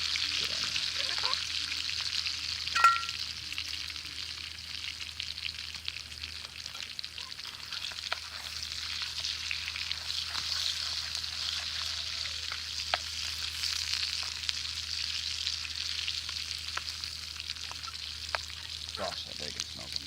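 Bacon fries in a pan with a steady, bright crackling sizzle that holds for the whole stretch, punctuated by occasional pops and faint scraping.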